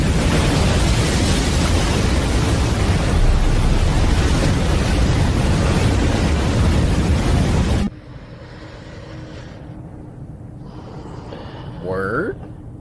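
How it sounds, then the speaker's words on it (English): Crashing ocean waves as a sound effect in an animated horror story, a loud dense wash of surf for about eight seconds that cuts off abruptly, followed by quieter room tone and a brief voice near the end. "I just got hit with waves"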